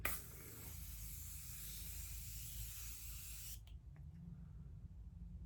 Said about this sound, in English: let's go ahead and use the Morphe Continuous Spray in the Sweet Peas